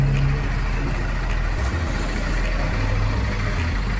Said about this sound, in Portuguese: o barulho do motorzinho